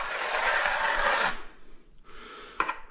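A tiler scrapes excess adhesive from the edge of tile with a steady, close rasping drag, then after a brief pause a second lighter scrape with a few sharp knocks.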